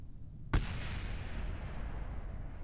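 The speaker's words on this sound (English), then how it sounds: "That was the sound of our rocket crashing beneath us." In Kerbal Space Program, a rocket crashes into the ground far below with a single sudden thud, followed by a low, rumbling wash of noise that fades slowly and stays faint.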